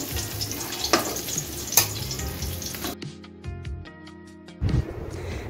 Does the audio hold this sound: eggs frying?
yes